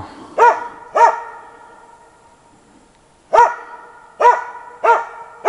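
A dog barks at a squirrel in tall trees in the taiga in short bursts, two quick barks, a pause, then four more, loud and fairly close.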